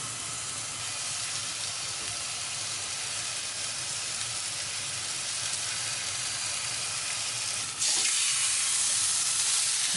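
Steak searing in a hot pan, a dense steady sizzle that suddenly grows louder and brighter near the end, close up with no talking.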